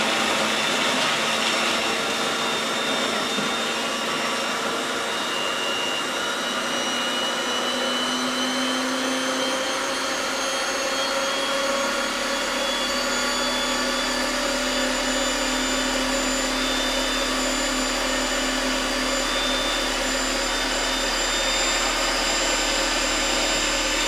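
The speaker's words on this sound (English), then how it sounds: "we're going to give it a quick blitz just to chop up some of those nuts" A blender chopping nuts whirs continuously and loudly for a long stretch, a steady grinding roar with shifting pitch as the nuts break down.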